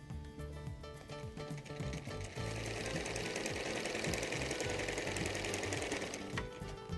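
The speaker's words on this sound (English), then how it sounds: "Then we move it back under the machine and start sewing from the very edge" A sewing machine stitches bias binding on a quilt edge, its rapid mechanical whirring running steadily, picking up speed and intensity after a slower start, close and alone.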